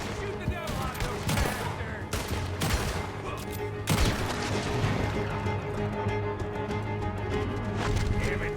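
Rapid volleys of gunfire crack through a horseback shootout in Red Dead Redemption 2, dense and loud, with hoofbeats and shouted voices mixed into the chaos.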